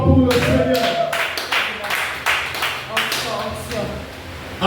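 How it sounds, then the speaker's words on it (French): A church congregation claps in steady rhythm during worship, with voices mixed in throughout and the clapping holding a fairly even, lively pace. "Acclame encore pour le Seigneur"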